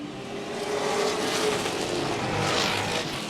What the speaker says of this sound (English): Further back in the field, we have a side-by-side battle, and Jeffrey White's going to have to surren